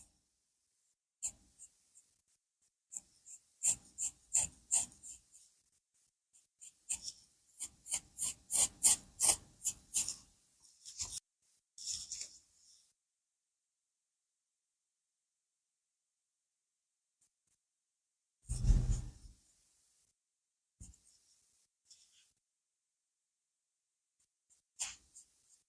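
Short bursts of close, scratchy rasping as a new razor shaves skin, in quick runs, with pauses between strokes and a louder thump partway through; no talking.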